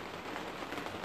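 Rain falls steadily outdoors, a dense, even hiss of drops on surfaces with no voices, growing heavier after starting during a cleanup.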